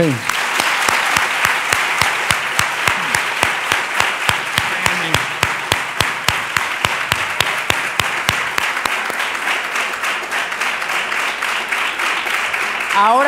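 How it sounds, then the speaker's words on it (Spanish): An audience applauds at a workshop session, broad clapping that stays steady for several seconds, with loud, regular individual claps punctuating it throughout. "primero vamos a darle un aplauso"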